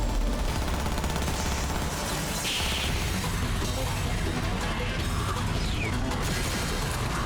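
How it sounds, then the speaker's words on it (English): Dense, continuous gunfire from the anime Cyberpunk Edgerunners, a loud unbroken barrage of shots and crashing impacts that fills the whole stretch with little letup. "And they're shooting at him"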